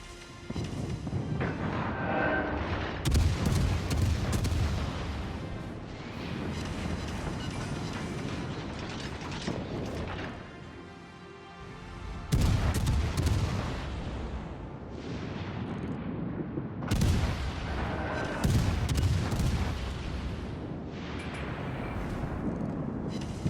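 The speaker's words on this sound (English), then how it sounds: "another lucky long-range hit with my torpedoes on the enemy Kuma" Torpedo hits and naval gunfire against an enemy Kuma cruiser in World of Warships Legends, heard as loud, sustained booming blasts and rumbling explosions in several heavy surges, with mechanical clatter between them and no voices.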